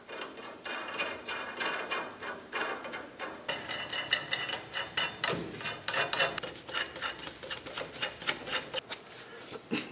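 Ratchet tightening U-bolts on a vehicle's leaf-spring shackle flip lift: dense, repeated metallic clicking in quick bursts, fairly close and continuous with no talk.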